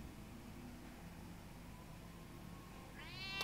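A single rising meow from a cat in the Batman Telltale video game comes near the end, clear and close over a low steady hum.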